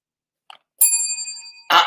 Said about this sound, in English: I got to get the Lambo bell for that